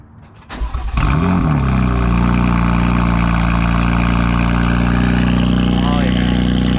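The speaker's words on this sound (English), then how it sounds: "Let's get this cold start going on this BMW M4 CS." A BMW M4 CS fires up on a cold start: a sharp crank and bark, then a loud, steady high idle drone that holds close and strong, with voices faintly beneath.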